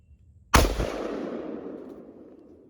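A single loud gunshot fired at a hog during a Florida hunt, a sharp close blast followed by a long fading outdoor rumble, no talking.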